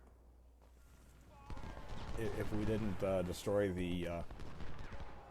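Artillery fire in the Civil War strategy game Ultimate General: Civil War, with dull booms that are mostly buried under someone talking steadily over them.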